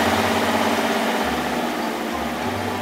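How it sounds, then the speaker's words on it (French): A cartoon road roller tractor flattens fresh asphalt, giving off a steady, close, low engine rumble and idle with a faint rolling vibration. "Le tracteur rouleau aplatit l'asphalte avec son rouleau."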